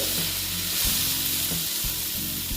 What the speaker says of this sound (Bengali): হলুদ দিয়ে একটু ভালো মতো এটা ভেজে নেব